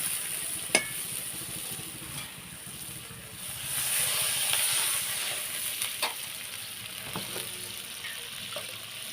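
Water poured into hot oil for katla kalia, a Bengali rohu fish curry, sizzling in a steady hiss that swells midway, with a few sharp spoon clicks against the pan.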